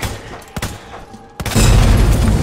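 Gunfire in the zombie shooter Resident Evil 2 Ghost Survivors: a couple of sharp game shots early, then a loud sustained burst of blasting that fills the second half.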